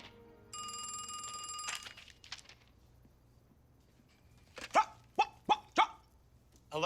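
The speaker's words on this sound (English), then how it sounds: "Yes, ma'am, that is my dog." A dog gives four sharp, loud barks in quick succession, nearby, following a telephone bell that rings for about a second at the start with no talking.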